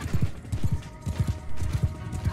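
Horse hooves galloping in the video game Mount and Blade 2: Bannerlord, a fast, steady clip-clop rhythm of loud low thuds in close repeated groups, heard alone with no talk.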